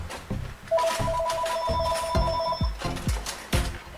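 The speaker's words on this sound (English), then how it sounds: "And of course, the phone is constantly ringing." A telephone rings repeatedly with a bright electronic trill over clattering background noise, fairly loud and close, with no speech.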